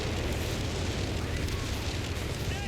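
Artillery and Stuka dive-bomber strikes in the Company of Heroes 3 video game, during a 4v4 match on Mignano Gap, form a loud, continuous rumbling barrage of overlapping blasts with no pauses.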